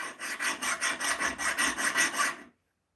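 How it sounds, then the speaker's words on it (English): A metal file rasps across a knife blank in about ten rhythmic back-and-forth strokes, close and loud, then stops abruptly into silence. "All right, start filing this thing again."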